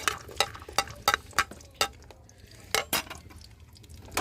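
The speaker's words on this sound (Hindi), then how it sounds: "इसको हमने 2 से 3 मिनट तक लाइट सा फ्राई करना, हल्का से इसका कलर आने तक।" Ginger and a clove of garlic stirred in a frying pan for fish curry: a series of sharp, close metal clinks and scrapes of a spoon against the pan, irregularly spaced, over a faint low sizzle, with no talk.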